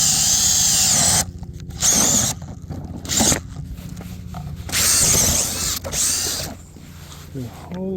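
Power drill cutting holes in ice for ice fishing, loud whirring bursts of a few seconds each that start and stop repeatedly, up close and with grinding mechanical texture.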